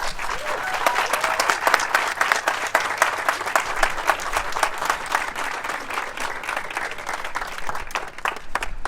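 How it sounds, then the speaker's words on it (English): An audience at a voting rally breaks into sustained applause, many hands clapping in a dense, even roar that holds steady from start to finish. "All right, give another round of applause."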